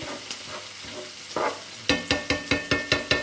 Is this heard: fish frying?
yes